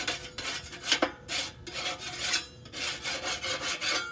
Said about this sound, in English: Then I take my putty knife here and I give this a little bit of a scrape.